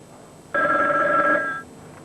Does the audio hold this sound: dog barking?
no